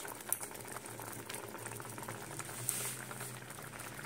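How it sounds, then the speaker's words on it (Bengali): An amla mixture for hajmi goli boils in a pot, giving a steady, soft bubbling simmer close by with a couple of brief sharper pops, no voices over it. "আর এটা যখন ফুটতে থাকবে, টকবগিয়ে ফুটছে"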